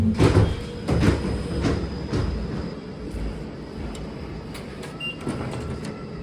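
A Minimetro cable-hauled people mover car rides along in Italy, giving a steady rumbling interior drone with a few louder thumps and rattles near the start and no talk.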